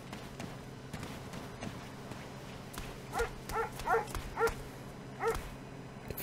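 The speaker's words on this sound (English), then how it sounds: "Fucking dog giving away our position." A dog barks in a video game firefight, five or so sharp yips and barks in an uneven burst over a steady low hum of game ambience.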